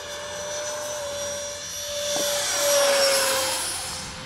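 A Viper Jet concept model plane with a 50mm electric ducted fan flies at about half throttle, its steady high whine holding alone before swelling louder toward the middle and easing off slightly.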